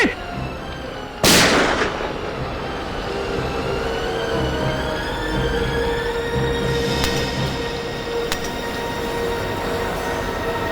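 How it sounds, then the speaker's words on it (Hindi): A single loud gunshot from a Hindi crime drama cracks sharply early on, followed by a sustained rumbling background that lingers for several seconds with a few faint later clicks. "गोली तो अब भी चलेगी"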